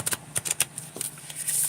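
Tarot cards being shuffled by hand, a quick series of soft riffling flicks and taps, close and fairly quiet, irregular in rhythm with a longer fluttering riffle at the end.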